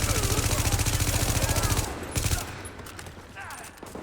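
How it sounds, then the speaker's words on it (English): Turrets firing in The Division video game, a rapid rhythmic burst of automatic gunfire that fades into scattered shots and game ambience. "Watch out for the turrets."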